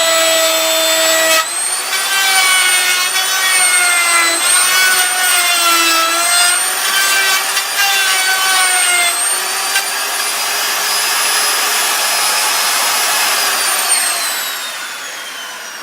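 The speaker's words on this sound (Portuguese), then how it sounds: "Essa é uma tupiazinha DeWalt." A DeWalt trim router cuts a freijó wood phone case: a loud, steady high-pitched whine with shifting pitch, heard alone and winding down at the end.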